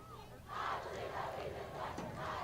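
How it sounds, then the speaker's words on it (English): Red River high school soccer fans in Grand Forks chanting the rhythmic "I believe that we have won" cheer, a crowd of voices rising in repeated waves and carrying steadily across the field during a match against Central. "The Red River crowd starts the I believe that we have one cheer"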